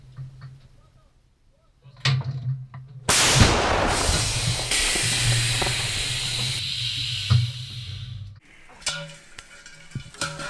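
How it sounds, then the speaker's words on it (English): A 152mm howitzer firing a shell on the Ukraine frontline, a sudden loud blast followed by a long roaring, hissing rush that fades after several seconds, with wind and faint voices around it. "The 152mm howitzer is loaded and its barrel trained onto the right bearing"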